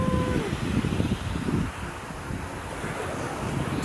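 Waves wash onto a beach with gray, fine sand while sea wind buffets the microphone, a steady loud rush with surging swells in the first half that settle into a constant roar.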